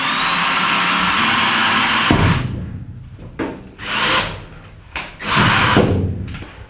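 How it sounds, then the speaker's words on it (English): Loud, close power drill whirring in several bursts while drilling holes in a school bus for roof fans, a long continuous run followed by shorter spurts as the bit bites and releases. "I gotta drill them a little bit bigger with a bigger bit"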